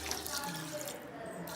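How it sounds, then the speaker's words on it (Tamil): Water pours steadily into a pot of soaked rice for ghee rice, a continuous close splashing trickle that is moderately quiet. "ஸோ நீங்கள் 2 கிளாஸ் தண்ணி ஊற்றிடலாம்."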